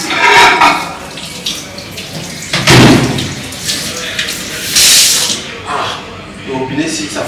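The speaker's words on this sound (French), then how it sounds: "Le robinet, si ça fatigue." Water running from a household tap in a home setting, a steady hiss with brief louder surges, heard under people talking.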